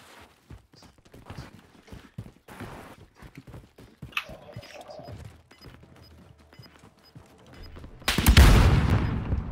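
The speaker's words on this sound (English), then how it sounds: "to our left, we got people shooting" Gunfire in the Warzone battle royale video game, sporadic shots and impacts through most of the stretch, ending in a loud close burst of firing.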